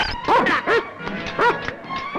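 Dogs in a Malayalam film scene from Mrugaya let out several sharp, close barks in quick bursts, mixed with yelps and whimpering between them.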